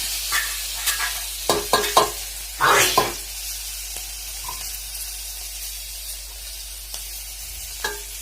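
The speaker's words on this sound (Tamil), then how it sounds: "போட்டு நல்லா ஃப்ரை பண்ணுங்க" Dried anchovies fry with onion and green chili, a low, steady sizzle broken by sharp scrapes and clacks of a spatula stirring the pan, with a denser burst of stirring midway.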